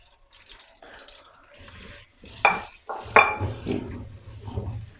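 Round-sliced onions drop into hot oil in a karahi and get stirred for chicken karahi, making scraping and clattering sounds over a soft, rising sizzle.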